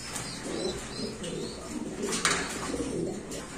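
Angel pigeons cooing in a loft at a pigeon sale, repeated low throaty coos at moderate distance with occasional wing flutters and faint background voices.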